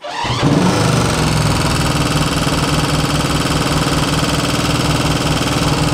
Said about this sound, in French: On va essayer avec un petit coup de régime moteur plus haut